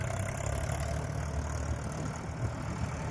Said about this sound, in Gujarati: અમારા બાબુભાઈ જો પહોંચ્યા ટ્રેક્ટર લઈ.